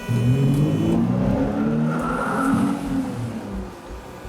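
A big car engine pulls up and revs, steady and fairly loud throughout, with a rising then falling drone like a vehicle arriving at school gates, used as a sound effect in a school play.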